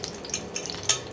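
Half a spoon of ghee goes into oil heating in a pan on an induction stove, giving a soft, faint sizzle with a few brief crackles and one slightly louder spit near the end. No one speaks.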